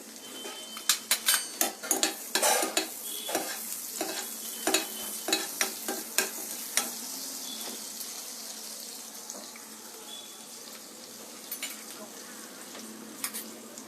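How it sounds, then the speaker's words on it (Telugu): A bay leaf and kalonji seeds fry in melted butter, a faint sizzle punctuated by quick clinks and scrapes of a spoon against the pan, busy at first, then quieter. "ఇప్పుడు మెల్ట్ అయింది బటరు. దీనికి ఒక బే లీఫ్, మళ్ళీ కలోంజీ 1/2 స్పూన్ వేస్తే చాలండి."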